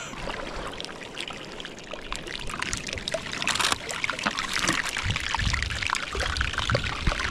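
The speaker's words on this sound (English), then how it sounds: "this iceberg's making crazy noises. It sounds like it's being deep fried" An iceberg melting in cold Alaskan ocean water gives off close, continuous fizzing and sharp crackling pops, with watery trickling mixed in.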